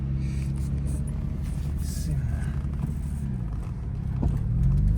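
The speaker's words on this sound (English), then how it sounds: "car is moving on its own power" Nissan G35 rolling under its own power for the first time after an engine swap, a steady low rumble of the motor close by throughout, building slightly louder toward the end with no talking.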